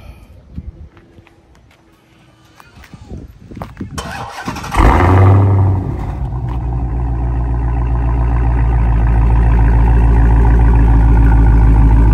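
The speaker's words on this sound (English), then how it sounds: "I'm gonna do a quick auto start and I'll show you guys how the car sounds" A car engine cranks and fires up, then settles into a loud, steady idle that gradually rises in intensity, close to the listener.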